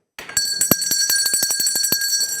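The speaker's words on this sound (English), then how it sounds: "Gbenga, I think it deserves the ringing of the bell." A bell rings repeatedly in quick, bright strikes, about a dozen clangs in a steady rhythm with a long shimmering metallic ring, loud and close.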